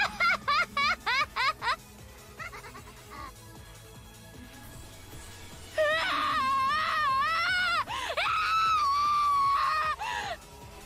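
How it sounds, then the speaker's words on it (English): A voiced character in the Umineko When They Cry visual novel screams in anguish: a burst of short, rapid shrieks, then long, loud, wavering wails that swell and break off, set against a faint musical background. "As Angie held her head and screamed"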